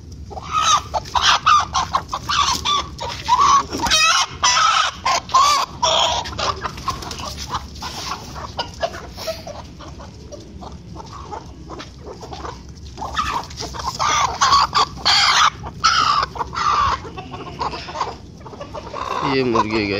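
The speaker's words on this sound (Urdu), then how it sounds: "یہ مرغی ہے گائس" Hen clucks and cackles continuously, loud and close, in a cluttered junk-filled spot, with rapid rhythmic bursts and some rustling throughout.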